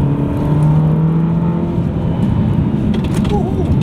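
A Ferrari California T engine drones loudly and steadily from inside the cabin as the car drives along winding mountain roads, with road roar and faint speech beneath.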